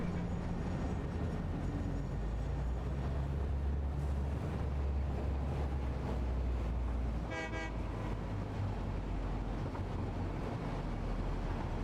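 A train in the video game Satisfactory rumbles steadily under a low drone, and a short horn-like toot sounds midway through.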